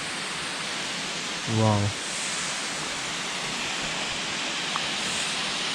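A waterfall in snowy, freezing mountain country of Sikkim roars as a broad, constant hiss of rushing water, loud and unbroken, with a brief exclaimed voice over it.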